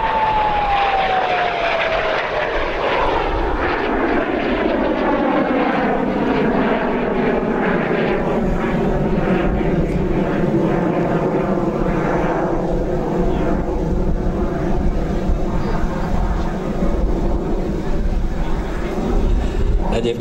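L-29 Delfin jet trainer flying past at a Hungarian air show, a loud continuous jet roar with a falling whine as it passes, sustained and close throughout.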